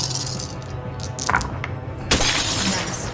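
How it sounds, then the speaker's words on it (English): Glass shatters in a tabletop Alien RPG scene, a loud bright crash that breaks out suddenly and rings on as a sustained crumbling spray of shards, after a few softer knocks. "you bang the glass; it shatters"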